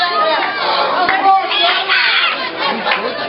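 Dense, roaring wrestling crowd at a live showcase event, a continuous wall of shouting and cheering voices with occasional louder swells, steady throughout.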